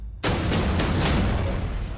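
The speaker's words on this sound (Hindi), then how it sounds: "सीसीटीवी में कैद धमाके का वीडियो" A grenade blast at a house in Chandigarh's Sector 10 erupts suddenly after a brief quiet, a single loud boom followed by a sustained rumbling roar with a few sharp repeated cracks as it slowly dies away.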